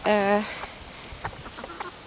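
A chicken gives a short, loud squawking cluck up close, followed by quieter scattered clucks and shuffling.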